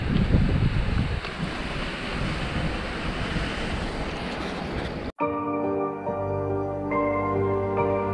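Waterfall beside a mountain campsite in Spiti Valley, a loud, dense roar of rushing water with wind buffeting the microphone, cut off abruptly partway through and replaced by quieter, steadier ambience.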